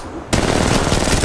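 Rapid automatic gunfire in the mobile video game Apex Mobile bursts in abruptly after a quiet moment and runs continuously, loud and close, as a dense, steady rattle.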